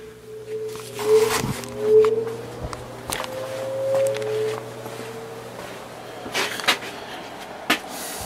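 A first-generation Lakewood HV18 fan with a 4-amp General Electric motor starts on its low setting, giving a steady motor hum with a faint tone that rises and wavers as the blades come up to speed, with a few light knocks.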